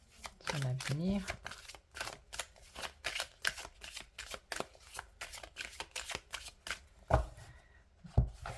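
Tarot cards shuffled by hand for a reading, a rapid series of crisp riffling slaps and flicks up close, with someone speaking French over the shuffling.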